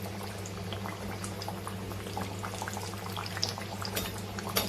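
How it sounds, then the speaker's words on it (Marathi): Khari patties dropped one by one into hot oil and deep frying, a steady, quiet bubbling and fizzing with fine crackles spread evenly throughout, no voices. "एक एक असं खारी पॅटीस आपण तेलामध्ये सोडू. छान असं आपण तळून घ्यायचं."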